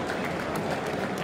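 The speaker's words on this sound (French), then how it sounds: "Afou Keïta qu'on va applaudir encore une fois" Audience applause for Afou Keïta at a political investiture ceremony, a dense continuous wash of clapping hands that fills the room evenly from start to finish.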